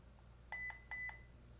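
Heimvision HM203 camera beeping during Wi-Fi setup, two short paired electronic tones, faint and clean over a quiet room hum.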